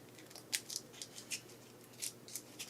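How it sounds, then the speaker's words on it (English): Scissors trimming folded crepe paper, cutting two layers at once, in a series of quiet, crisp snips at an uneven pace with nothing else audible. "I'm going to come in here and I'm just going to start trimming."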